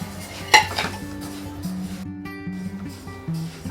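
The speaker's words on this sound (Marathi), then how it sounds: "आधी आपण तांदूळ भाजून घेणार आहोत।" Rice dry-roasting in a pan over a high flame, with a sharp metal clatter of the spatula early on, then steady soft scraping and stirring against the pan.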